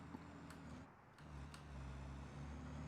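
A truck in the factory-building game Satisfactory comes to a halt. Its low engine drone dips briefly and then settles into a steady idle hum, quiet against a constant background drone.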